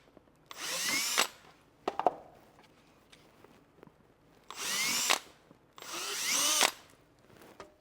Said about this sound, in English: So a 5/16 drill bit through the holes here.